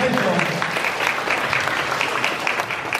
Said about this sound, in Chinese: 拍手，拍手